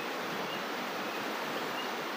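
A mountain river flows in a continuous, even rush of water, heard alone at moderate volume.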